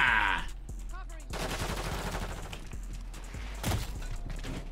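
Gunfire in Call of Duty Modern Warfare 3: a continuous rattling spray of automatic fire with a sharper burst near the end, mixed with busy game sounds and a brief voice-like bleat near the start.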